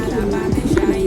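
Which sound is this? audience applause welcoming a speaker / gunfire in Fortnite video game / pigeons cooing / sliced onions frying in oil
pigeons cooing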